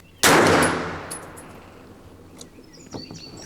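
A single loud, close shot from a DEFGUNZ Alpha 9 Plus 9mm pistol caliber carbine firing round-nose ammunition outdoors, with a sharp crack and a long ringing decay, followed by faint clinks.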